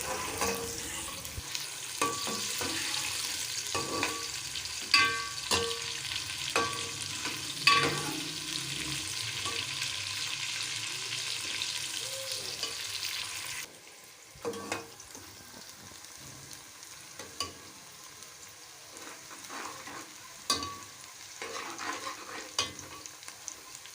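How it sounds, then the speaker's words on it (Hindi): Onions frying in a pan for chicken korma, a steady sizzle with frequent stirring and scraping clicks, loud at first and then quieter and softer after a sudden drop midway, with no voices. "अब हम इसमें प्याज ऐड करेंगे, फ्राई करेंगे प्याज"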